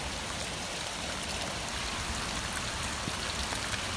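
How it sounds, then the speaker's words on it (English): Garden water spilling over low stones like a small waterfall, a steady close splashing and trickling wash that runs unbroken and alone for the whole stretch, with no voices. "Got our own waterfall."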